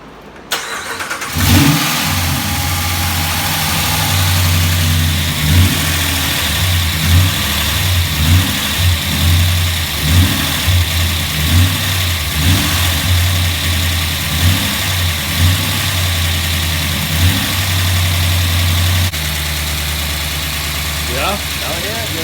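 Ram truck V8 with a newly installed HPT cam and small exhaust collector leaks cranks over and settles into a loud, lumpy idle with a steady choppy pulse, some voices faint in the background.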